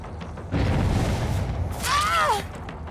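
A bomb or firecracker goes off in a video game: a deep, rumbling boom swells and lingers, followed by a brief descending whistle-like tone.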